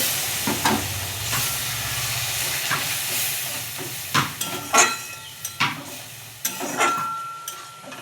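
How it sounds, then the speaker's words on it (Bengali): Water hitting frying spice paste for a soybean and potato curry, a loud steaming hiss and sizzle with several scraping stirs and utensil knocks, close up throughout. "মশলাটাকে ভালো করে কষিয়ে নিয়েছি, এবার আমি আর একটু জল দেব।"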